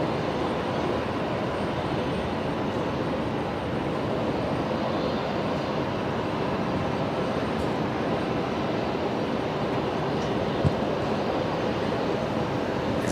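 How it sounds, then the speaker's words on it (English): A Qantas Airbus A330 returning from Auckland touches down on runway 01 right at Brisbane Airport, its engines a loud, steady broadband roar that holds evenly throughout. "Here is Qantas 126, the A330, coming back from its return trip to Auckland this afternoon"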